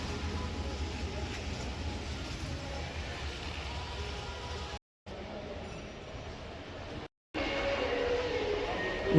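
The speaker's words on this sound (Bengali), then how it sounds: "এখানে মেলার ড্রেগন ট্রেন দেখো" A dragon train ride rumbles along at a fair, its steady mechanical clatter and rolling noise continuous and fairly loud against crowd ambience, broken by two brief dropouts.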